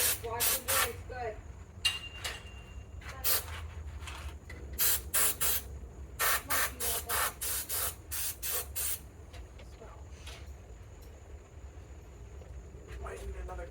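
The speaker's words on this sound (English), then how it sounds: "Watch that spray, Mike." Aerosol can sprayed during repair of a Utilitech high-velocity fan, in a series of close sharp hissing bursts of varying length with pauses between, and people talking nearby.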